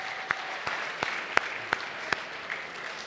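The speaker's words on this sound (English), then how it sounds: "That's worth an applause." At a dinner program, sparse applause comes from the audience as a handful of separate, evenly spaced claps over a quiet room tone, fairly faint rather than a full ovation.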